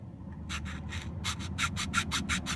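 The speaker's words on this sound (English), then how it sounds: "now you're going to switch to your round file" Round file cutting a groove in a plastic radar-detector mount case: about nine rapid, evenly paced rasping strokes, close and distinct over a low steady hum.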